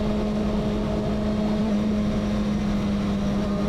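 A motorcycle rides steadily and leans into a turn, its engine a loud, close, continuous drone under heavy wind noise, with no voices.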